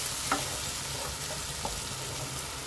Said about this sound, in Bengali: এখন ভালো করে মশলাটার সাথে উপকরণগুলো সব একসাথে মিশিয়ে নিচ্ছি